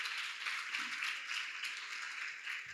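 Applause from a live audience at a spiritual talk on karma, a steady wash of many hands clapping that carries evenly throughout without any voices over it.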